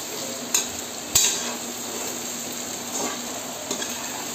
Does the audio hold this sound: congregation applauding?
no